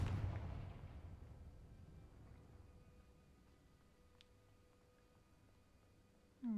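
A Confringo spell explosion in a Harry Potter video game bursts loudly at the start and decays into a long rumbling fade, ending with a brief new sound.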